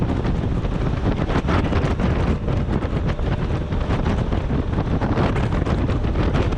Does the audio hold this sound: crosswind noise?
yes